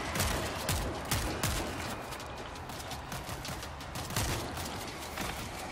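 Continuous rapid gunfire with sharp bursts and rattling shots, dense and loud throughout, from a World War Z video game firefight.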